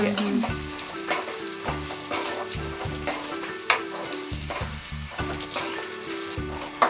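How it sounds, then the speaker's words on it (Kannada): Garlic sizzles steadily in hot oil for a Karnataka-style khara mandakki, with a dense crackling hiss and occasional stirring clatters, loud and close, no talking. "ಬೆಳ್ಳುಳ್ಳಿ ಎಣ್ಣೆಗೆ ಹಾಕ್ಬಿಟ್ರೆ ಅದ್ರದ್ದು ಫ್ರೇಗ್ರೆನ್ಸ್"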